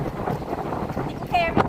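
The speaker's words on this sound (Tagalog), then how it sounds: "Grabe yung lakas ng hangin." Strong wind gusts at YQR airport in Regina, buffeting the microphone as a steady low, rumbling roar for the whole stretch, with a voice briefly rising near the end.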